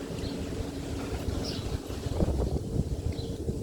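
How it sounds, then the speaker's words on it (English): Steady wind blowing outdoors, a broad low rumble of gusts buffeting the microphone, fairly loud and continuous throughout with no voices. "It's nice and windy out here."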